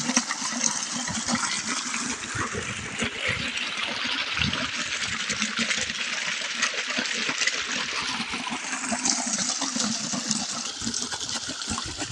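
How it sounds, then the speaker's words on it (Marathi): Irrigation water for a sugarcane field rushes steadily through a supply pipe chamber, a constant close gushing wash that holds level for the whole stretch with no talk. "पाणी चाललेलं आहे"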